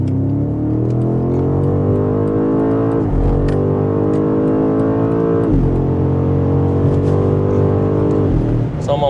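A 2025 BMW M5 Touring accelerates hard on the Autobahn, heard from inside the cabin. The loud engine note climbs steadily, with brief dips at two gear changes, then keeps rising.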